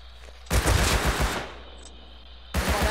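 Two bursts of rapid automatic AK rifle fire in the survival game Rust, loud and close, the first lasting about a second and the second starting near the end, with a quiet gap between them.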